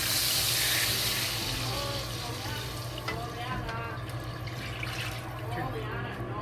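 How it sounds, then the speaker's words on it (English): Cold tap water pours into a pot of red chili oil and sauce for Szechwan boiled pork, a rushing splash that is strongest at first and then settles into a softer steady flow. "we add 4 cups cold tap water to it"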